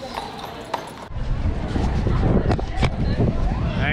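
Horse hooves clip-clop on a hard street on car-free Mackinac Island in a few distinct strikes, with a busy outdoor murmur of people, bikes and movement around them.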